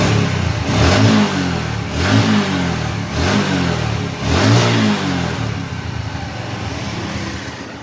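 A Honda Revo Absolute motorcycle, freshly repaired after weak idle and sluggish pickup, revs up close and loud in four repeated throttle blips, each rising then falling, before settling into a steady running drone.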